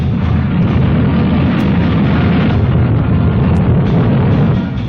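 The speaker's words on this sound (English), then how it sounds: "At White Sands, New Mexico, the huge missile takes off." A captured German V-2 rocket launches at White Sands, New Mexico, with a loud, dense, continuous roar that holds steady for about five seconds, and no voices are heard.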